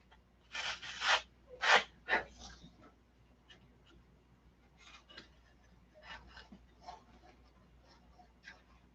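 Sandpaper rubs a foam wing in a few quick, close swipes at first, followed by softer, scattered light scratching strokes against a quiet background.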